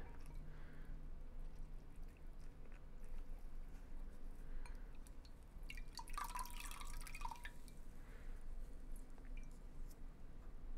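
Water drips from a soaked sponge during a custom vinyl wrap job in a workshop, a faint, sparse patter of drops over low steady background noise with a brief clink of wet activity midway.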